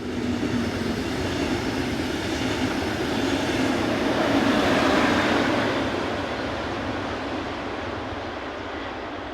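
Class 112 electric locomotive 112152 passes with a passenger train from Frankfurt (Oder), a steady rolling rumble and whine of wheels on rails that swells toward the middle as it goes by, then slowly eases.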